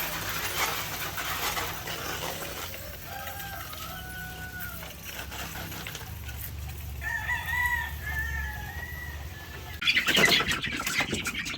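Barred Rock chickens on a farm crow and cluck, with several drawn-out crows in a row, close and clear over a steady background hum and a louder burst of flapping and squawking near the end.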